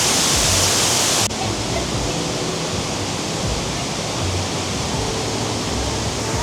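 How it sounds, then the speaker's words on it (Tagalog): A waterfall near a hanging bridge in Vietnam gives a loud, constant rushing roar of falling water, close by and filling the whole stretch without a break. "may waterfall doon"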